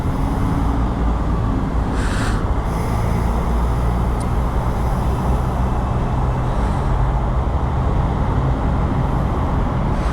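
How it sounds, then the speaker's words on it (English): Steady, loud roar of traffic inside a road tunnel, heard from a motorcycle, with a dense, constant rumble of engines and tyres echoing throughout and no talking. "Gotta love the tunnel traffic."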